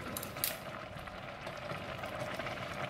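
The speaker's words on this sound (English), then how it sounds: "It's boiling vigorously, so I'm going to check on it." Steady bubbling and churning of water boiling hard in a pot of mung beans, a continuous rolling texture with a brief clink near the start.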